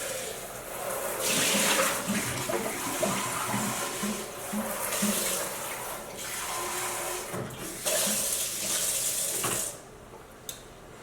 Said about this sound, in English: So I'm going to actually wash this out.